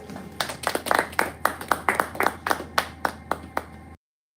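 An audience at a business pitching session claps in a quick run of sharp, distinct hand claps for about four seconds, close and fairly loud, then silence.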